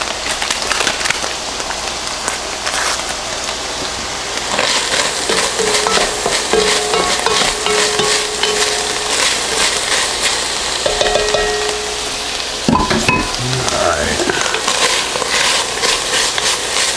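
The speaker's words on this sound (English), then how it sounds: "Just try to get a little color on the hamburger real quick." Ground beef for a simple chili frying in a pot over high heat, a loud, continuous close sizzle with scraping stirs throughout and a sharper clatter of the utensil near the end.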